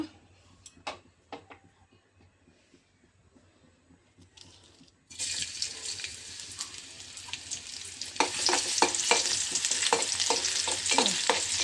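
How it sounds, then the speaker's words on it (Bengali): Oil heating in a pan, then onions frying for khichuri: quiet clicks and clatter at first, then a steady bright sizzle that swells louder when the onions go in, with stirring scrapes on top. "তেল গরম করছি। তেল গরম হলে এর মধ্যে পেঁয়াজ দিয়ে দেবো একটু সামান্য।"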